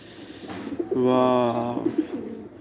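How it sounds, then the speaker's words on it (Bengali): Pigeons cooing close by, one sustained throaty coo rising and holding for about a second with softer calls around it; a voice may be faintly present. "কবুতরগুলো গ্রিড খাচ্ছে আচ্ছা পানি চাচ্ছে কবুতর"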